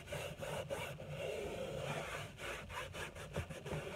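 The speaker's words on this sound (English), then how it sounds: "Rubbing it on there." A cloth rag rubbed back and forth across the surface of an oil painting to lift off Gamvar picture varnish, giving a soft, quiet rhythmic scrubbing with short repeated strokes and no talk.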